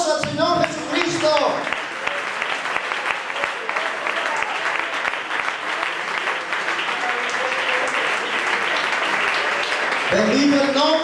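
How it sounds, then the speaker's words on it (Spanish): A church congregation breaks into sustained applause for Jesus Christ, a dense wash of clapping that swells after a brief spoken phrase and holds steady for about nine seconds before a voice resumes. "Denle un aplauso al Señor Jesucristo."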